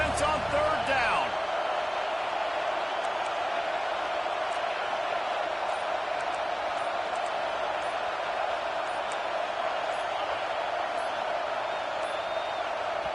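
A packed college football stadium crowd at the Horseshoe roars on third down, a loud sustained wall of noise that holds steady from start to finish.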